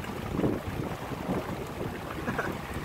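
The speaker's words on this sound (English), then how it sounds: "It is so much rain that was coming down" Heavy rain pours steadily during a July thunderstorm, a dense continuous wash of noise with a gusty, wind-blown texture and no voices.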